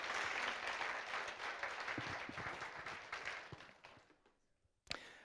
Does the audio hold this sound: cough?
no